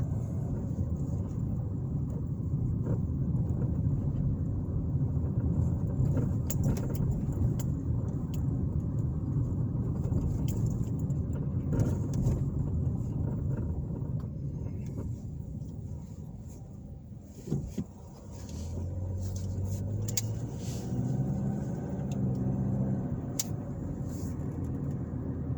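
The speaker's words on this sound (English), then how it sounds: "Now, I'm going to drive around the downtown area for a minute here." A car cruises through downtown Pendleton, Indiana, heard from inside as a steady low road rumble and engine hum, with a brief dip and a few faint passing noises partway through.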